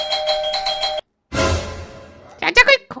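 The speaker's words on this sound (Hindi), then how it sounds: "अरे तो घंटी बजा दे यार, कुछ तो बजा" An electronic doorbell at a house gate rings a close, repeated chime, followed by a burst of noise and a brief voice speaking at the end.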